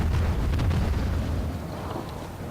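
Shells slamming into a warship during a World of Warships naval battle, a continuous heavy rumbling barrage of low booms and bursts, loud and dense throughout without speech.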